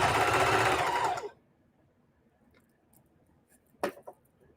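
Sewing machine stitching a patch onto a vintage rag quilt, a loud steady whir for about a second before stopping, followed by near silence and a couple of faint handling clicks.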